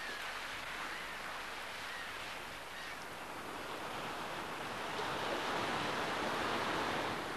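Sea waves wash against the coast at the Giant's Causeway in Northern Ireland, a soft continuous surf roar with gusty wind that swells slightly toward the end.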